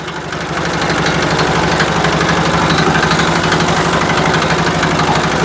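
A cargo trawler engine on the Buriganga river thrums loud and close, a steady rhythmic chugging drone that builds in the first half second and then holds evenly throughout.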